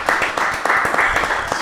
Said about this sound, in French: On peut les applaudir d'ailleurs.